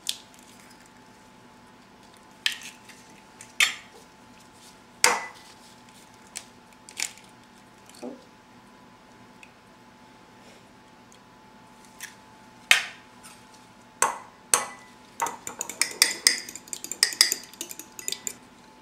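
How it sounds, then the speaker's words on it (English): Eggs beaten in a bowl for butter tarts: scattered clinks and taps of utensil on bowl, sparse at first then a quicker cluster of strokes near the end, close and fairly quiet with no talk. "Now you can beat your eggs."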